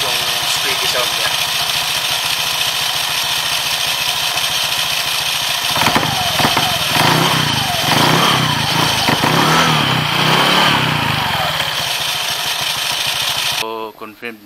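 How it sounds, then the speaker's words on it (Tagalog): A Honda Click scooter idles with its CVT squeaking and a stiff clutch assembly, a close, steady mechanical drone that roughens and shifts midway before cutting off near the end. "Unti-unti na lumalabas yung squeaky sound niya."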